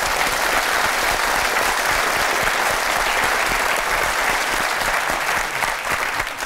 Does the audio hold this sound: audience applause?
yes